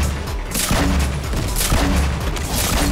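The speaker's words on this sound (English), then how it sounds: "just get really aggressive with the grenade launcher" Booming blasts from a grenade launcher in the video game Fortnite, several heavy explosions in quick succession with dense crackling debris filling the gaps, loud and close.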